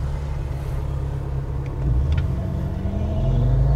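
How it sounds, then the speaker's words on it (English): A tuned BMW 355i with a hybrid N54 engine rumbles loudly and steadily at close range while its cold tyres are skidded to warm them before a roll race, swelling slightly partway through. "Yeah, do a bit of a skid."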